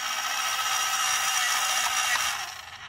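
An electric plug-in pencil sharpener grinds a pencil with a steady, close, whirring rasp that holds for about three seconds and then tapers off, with no talking.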